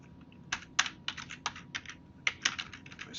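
A short burst of typing on a computer keyboard, entering a command at a server terminal. The keystrokes come close and crisp in uneven clusters, with brief pauses between them and no one speaking.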